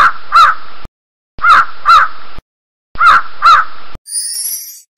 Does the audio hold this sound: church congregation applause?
no